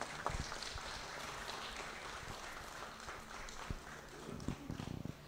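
A crowd applauds during a photo op at the PHLPost launch of the Yuka Saso stamps. The clapping is fairly faint and continuous, with a few louder nearby claps toward the end.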